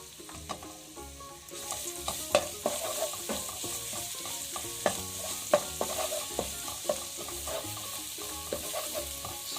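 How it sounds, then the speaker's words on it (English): Chopped garlic frying in cooking oil in a pan over medium heat, a steady close sizzle with repeated sharp clicks and scrapes of stirring throughout, no voices. "I have my pan here on medium heat, and I'm going to add in cooking oil, finely chopped up garlic"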